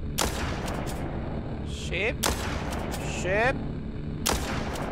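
Gunshots in the zombie shooter game Walking Zombie 2, several loud sharp blasts spaced a second or two apart, with brief ringing game effects between them and someone speaking briefly.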